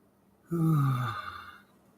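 A cat gives a single drawn-out, falling meow in a quiet room, close and fairly loud, lasting about a second before fading.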